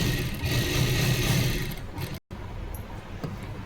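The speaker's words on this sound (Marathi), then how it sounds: "तिथं पण व्यवस्थित शिलाई करून घ्यायची" A sewing machine stitches a princess-style blouse in a steady, continuous mechanical whir that runs loud and close, with a brief silent gap midway before the stitching resumes.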